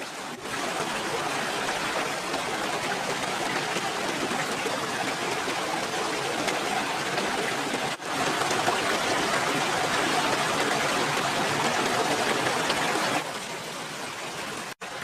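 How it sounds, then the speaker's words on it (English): Fresh spring water rushes and splashes continuously in a steady broadband wash, close and fairly loud, with no voices. "There was fresh spring water here"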